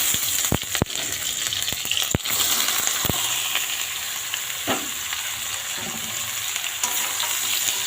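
Mixed vegetables sizzle steadily in hot oil as they are stirred, with a continuous broadband frying hiss broken by sharp scraping clicks of the spoon against the pan; no voices.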